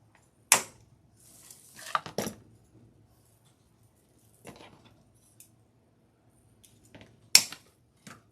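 Scissors cut decorations for a Christmas church centerpiece, giving a few sharp, isolated snips with quiet pauses between them, close and fairly soft.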